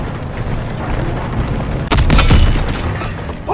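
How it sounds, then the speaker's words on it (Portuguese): A single heavy Panzer tank cannon blast in the World War II shooter Call of Duty: WWII, a sudden deep boom that rises out of constant battlefield rumble and then trails off. "Um tiro!"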